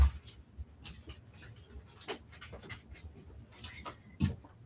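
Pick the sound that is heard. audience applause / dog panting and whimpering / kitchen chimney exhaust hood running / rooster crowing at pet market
dog panting and whimpering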